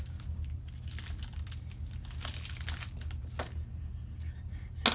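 A package wrapper is crinkled and torn open close by in a series of faint, irregular rustles under a low steady hum, with no talking.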